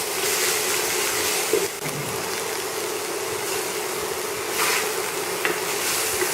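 Vegetables being stirred and fried in a pan with salt for a Bengali-style sabji patisapta filling, a steady loud sizzle with scraping stirs throughout and a few sharper clinks.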